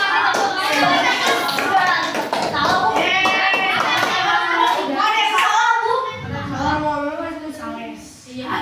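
A fifth-grade class of children in an Indonesian primary school claps in rhythm while chanting together loudly, their voices and hand claps filling the classroom.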